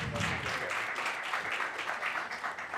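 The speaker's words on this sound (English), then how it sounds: "Huge round of applause." Audience applauding panelists at the close of an industry session, a moderate, steady patter of clapping hands, somewhat distant and soft, lasting a few seconds with no talk over it.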